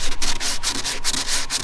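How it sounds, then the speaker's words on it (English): Sandpaper worked by hand scrubs over fiberglass glaze on a boat top in fast back-and-forth strokes, with a loud, close, steady rasping rhythm and no voices. "In here, you have to sand by hand."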